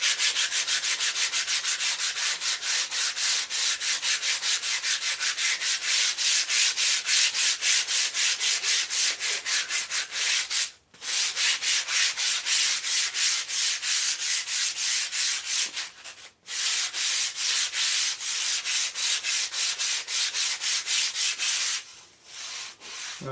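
Steady, close abrasive rubbing of sandpaper on a wooden ship model, a continuous rhythmic scratching broken by two short pauses.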